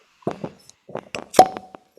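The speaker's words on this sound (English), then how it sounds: "Perfect cork pop, really." A cork pulls free from a bourbon bottle during a tasting in Kentucky, with a single sharp pop amid a few softer handling clicks and taps nearby.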